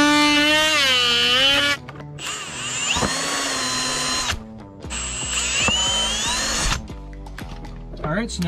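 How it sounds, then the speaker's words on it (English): A power drill bores two mounting holes for an immobilizer assembly on a Sea-Doo Ultra personal watercraft, in two loud sustained whining bursts separated by brief pauses, with a voice talking at the start. "we're gonna drill out these two holes"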